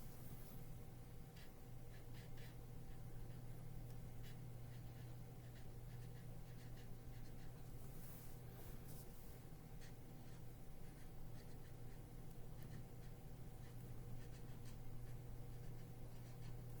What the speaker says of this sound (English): choose a color of marker to write your name and the year on what is now the cover of your sketchbook